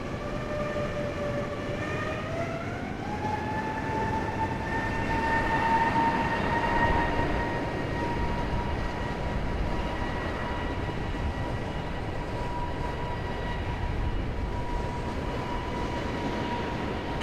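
A Frontier passenger jet takes off from Raleigh-Durham airport, bound for Orlando, with a loud, sustained engine roar. A whine climbs in pitch and then holds steady, with no talking.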